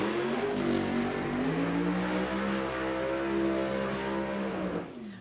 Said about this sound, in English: Oh, it's a Pro Mod car.